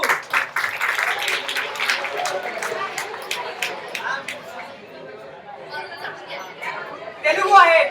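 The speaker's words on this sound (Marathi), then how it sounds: "जे व्यक्ती उभे आहेत त्यांच्यासाठी टाळ्या वाजवा." A school audience gives scattered, uneven clapping that is loudest early on, then thins out under crowd chatter before a short final burst.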